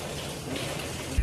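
Rain falls steadily as a soft, even hiss with a brief louder patter near the end, faint and alone.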